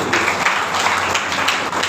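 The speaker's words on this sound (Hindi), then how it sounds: "जोरदार तालियां और दीजिए।" Audience applause at a business plan presentation, a dense burst of clapping that stays loud and continuous with no pauses.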